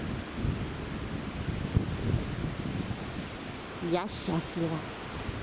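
Stormy, cold weather outdoors in the countryside near Bishkek, with wind and rain making a loud, steady rushing roar and buffeting gusts close to the microphone, while someone speaks briefly over it.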